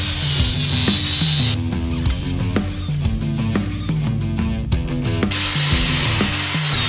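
A power tool strips paint, galvanizing and rust from leftover lengths of steel tubing, whining hard in a close, loud run with rhythmic knocks and scrapes. The motor pitch dips and rises as the tool bites into the metal.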